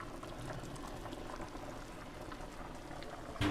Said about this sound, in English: Get the sizzles.